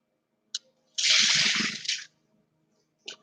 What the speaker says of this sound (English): And I guess I'll go ahead and drain my pasta while I wait on that